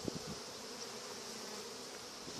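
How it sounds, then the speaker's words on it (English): Honeybees fan their wings at a hive entrance on an allotment, a dense, even buzzing drone that runs throughout, moderately close and soft, with no one speaking. "there's a lot of bees fanning at the new entrance"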